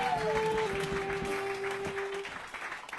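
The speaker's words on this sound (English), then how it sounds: "You fuckers are done clapping?" An audience clapping at a live comedy show, a dense steady wash of applause that thins out toward the end, with a voice speaking over it.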